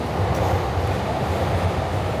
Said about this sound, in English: Train. That's a train.